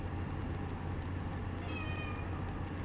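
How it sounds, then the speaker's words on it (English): A pet cat cries with a drawn-out meow indoors, moderately close, over a constant loud hum of background noise and no voices. "My cat's really crying."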